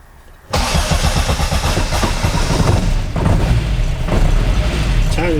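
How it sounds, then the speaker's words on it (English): An Austin Mk1 with an Arden 8-port head fires up after a brief crank with a touch of throttle, then settles into a loud, throbbing near idle, with a voice talking over it. "Tiny little bit of throttle to help it start."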